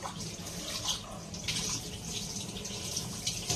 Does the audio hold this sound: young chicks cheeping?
no